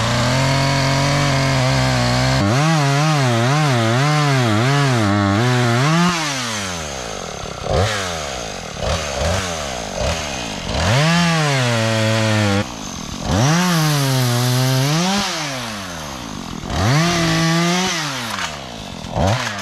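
A Husqvarna chainsaw revs hard and bogs repeatedly while cutting down a small tree outdoors, its close, loud engine whine rising and falling in rhythmic bursts with brief idle dips between cuts.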